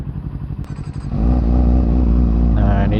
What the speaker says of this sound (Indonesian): Nih suara si Z900 gacor nih.